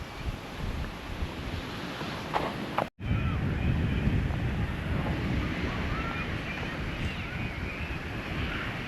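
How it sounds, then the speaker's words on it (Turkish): Sea waves roll onto the sandy beach at Türkeli Güzelkent, Sinop, in a continuous surf roar mixed with heavy wind buffeting, broken by one brief dropout. "Dalga sesini duyuyor musunuz?"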